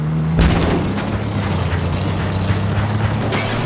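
A missile explosion in Battlefield 4 hits with a loud, sudden boom, followed by steady vehicle engine drone and a second sharp impact near the end.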